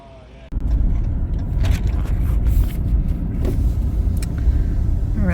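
A Mercedes-AMG car drives along with a steady engine rumble and road noise from inside the cabin that starts abruptly and continues throughout, while people talk over it.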